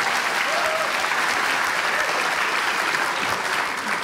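Dense, sustained applause from a studio audience at a Nashville Now country music TV show, a steady wash of many hands at even loudness from start to finish.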